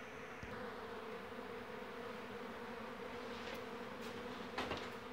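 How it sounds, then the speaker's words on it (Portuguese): A populous swarm of honeybees buzzes steadily around a hive during bee capture, a dense continuous drone close by with a few louder passes of individual bees. "Tem muita abelha."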